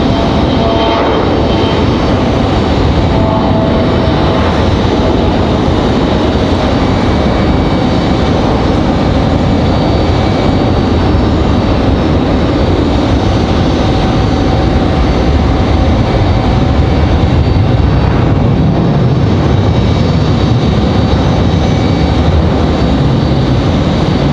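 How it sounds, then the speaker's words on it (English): A CRJ regional jet taxiing at Raleigh-Durham airport gives a steady engine drone and whine that holds evenly at close range, loud and unbroken, with no speech. "CRJ on the move."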